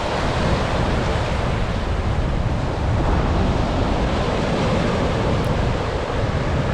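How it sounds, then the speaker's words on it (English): Surf washes continuously onto a sandy beach at Fraisthorpe on the Yorkshire coast near high tide, a broad, loud, steady roar of breaking wavelets with some wind on the microphone and no voices. "Lovely surf."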